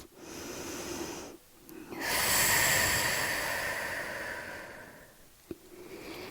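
Slow, audible breathing during a vinyasa yoga flow: a long, airy inhale or exhale swells and fades, framed by quieter breaths and a brief pause, close and unaccompanied by talk.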